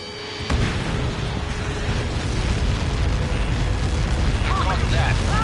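Missile strike in the Ace Combat 7 flight game, opening with a sudden heavy impact boom that rolls into a sustained loud rumbling roar, with radio chatter voices over the blast.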